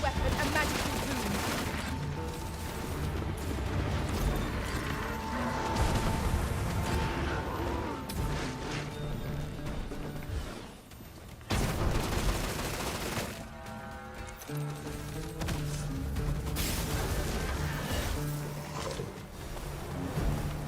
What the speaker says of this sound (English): this is like wielding a machine gun as a bow